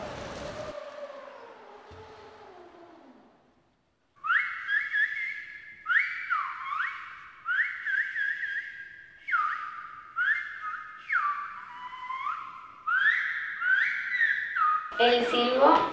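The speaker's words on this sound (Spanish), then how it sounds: "El silbo es un sistema de comunicación que antiguamente se usaba mucho en La Gomera" Silbo gomero, the whistled language of La Gomera, rings out as a string of loud, sliding whistled phrases with rising and falling pitch and short gaps, following a quieter stretch of murmur at the start.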